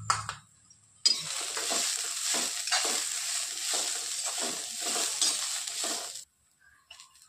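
Moth bean sprouts dry-roasting in a pan with turmeric, a steady sizzling hiss broken by repeated scraping stirs, starting abruptly and cutting off near the end.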